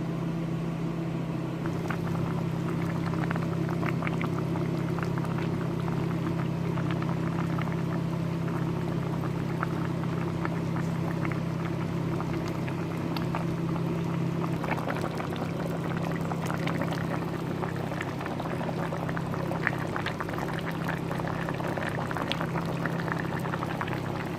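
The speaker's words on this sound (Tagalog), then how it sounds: "Hayaan natin na kukulo" Marag vegetables simmer in a covered pot, giving a steady low bubbling hum with small pops and ticks throughout, continuous and close, with no one talking.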